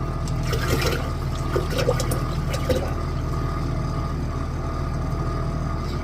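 Distilled water pours and splashes steadily into a container, a continuous watery rush with some gurgling near the start.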